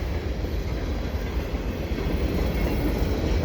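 A CP freight train led by a heritage-painted SD70ACU locomotive rolls past in winter, a loud continuous rumble of wheels and cars with steady clatter throughout.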